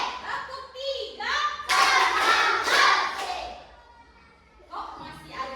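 Schoolchildren in a classroom clap in rhythmic bursts on a teacher's command, the group claps loud and close with short pauses between sets, with children's voices and a thump mixed in.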